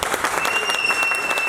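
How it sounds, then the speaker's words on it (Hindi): A live audience at a Star Night show claps for the evening's performers, a continuous crackle of many hands at moderate loudness, steady from start to finish with no speech over it. "एरिया में एक बार जोरदार ताली है यार"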